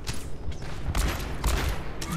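Rapid gunfire from the video game Overwatch, a continuous dense burst of shots with heavy low thumps, loud and steady through the whole moment, with no voices over it.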